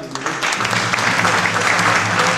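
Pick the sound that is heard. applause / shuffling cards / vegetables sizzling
applause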